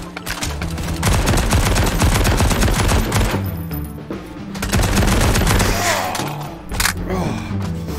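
Loud, dense bursts of automatic gunfire from the video game Hard Bullet rattle almost continuously, broken by short pauses and heavy thuds.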